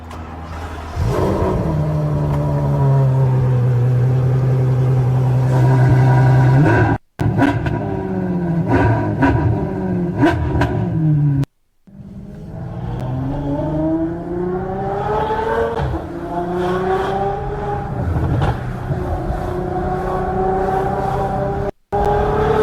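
A Ferrari F12 engine in a video game revs loudly and repeatedly, rising and falling through the gears in long sustained pulls, with brief abrupt cutouts between bursts of acceleration.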